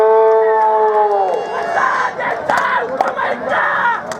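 A crowd roars and cheers at a traditional kusti wrestling ground, opening with a loud sustained collective shout that breaks into a noisy, rising jumble of many voices.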